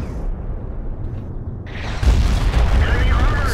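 A T57 tank cannon in a video game fires from its autoloader clip, a heavy booming blast that erupts partway through and rumbles on loudly over steady game noise.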